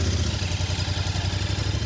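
Motorcycle fitted with Michelin Classic Road tyres riding on the road, its engine throbbing in a steady, close, pulsing drone with a low rhythmic beat and some mechanical clatter.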